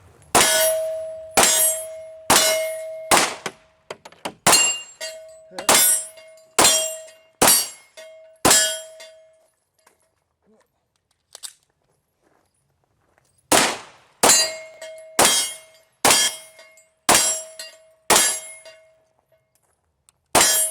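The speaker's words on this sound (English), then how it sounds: "I was hitting the steel next to it on half of those" Pistol rounds from a Glock 34 Gen 5 ringing off steel targets, a sharp metallic clang for each hit in quick strings of several shots, with pauses between strings, loud and clear with no talking.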